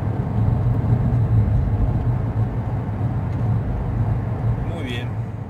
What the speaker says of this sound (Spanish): Ahí está actuando el motor generador, produciendo electricidad